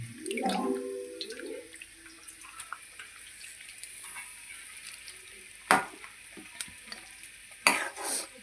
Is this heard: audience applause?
no